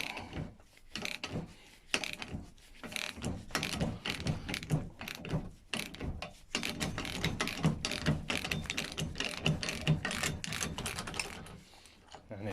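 Ratchet drawing a fan belt pulley bearing out of a Honda K20 tensioner idler down the threads into a socket: rapid continuous clicking of the pawl, quiet and close, in steady strokes with brief pauses.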